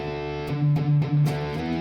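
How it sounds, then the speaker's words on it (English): Crunchy distorted electric guitar through a 6160-style amp's distorted channel plays a few sustained, buzzing chords with slight rhythmic picking, loud and close. "the next one is gonna be a Crunch Metal. This is basically the second channel, so this is the distorted channel."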